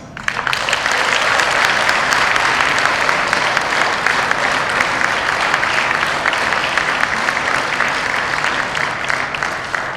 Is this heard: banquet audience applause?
yes